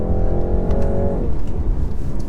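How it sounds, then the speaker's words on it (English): A BMW 330e hybrid saloon accelerating hard with a touch of wheelspin: a loud, rising engine drone with stacked harmonics, then a drop in pitch as it short-shifts into second, followed by heavy road and wind roar. "Bit of wheel spin, short shifted into second."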